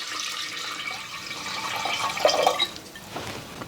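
Water splashes and trickles into a metal pressure cooker holding dal, a close, uneven pouring sound that swells briefly and then tapers off.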